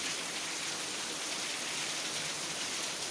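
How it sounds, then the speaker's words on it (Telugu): Heavy rain pouring in Bhupalpally district along the Medaram route, a dense, even hiss of rainfall striking surfaces, steady and unbroken, moderately quiet and heard alone without voices. "బా ఏం వర్షం, జీవితంలో ఇంత వర్షం ఎప్పుడు కొట్టలే కావచ్చు."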